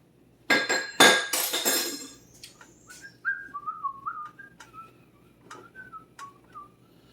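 A pot clatters loudly into a kitchen sink with a few sharp metallic clanks. High thin squeaks and faint chirps follow, and no one speaks.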